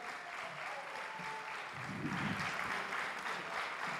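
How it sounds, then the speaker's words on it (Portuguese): An audience at a hypnosis stage show featuring a go-go boy breaks into applause, sustained and fairly loud throughout, with a rumble of crowd noise underneath. "uma salva de palmas para os nossos astros"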